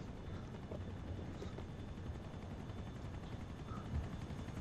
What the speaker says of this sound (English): There's two helicopters.